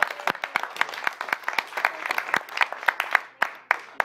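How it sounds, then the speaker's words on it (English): Sparse, scattered applause from a small audience at a lecture on designing an ecocity, individual sharp claps standing out one by one at close range and moderately loud. "I think we should all stop and applaud before everybody sleeps."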